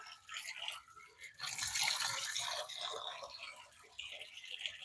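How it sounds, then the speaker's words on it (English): Fresh water runs from a tap during a shave, a close, steady splashing rush that swells louder midway and stays continuous, with a slight change in flow toward the end. "Let me get some fresh water here"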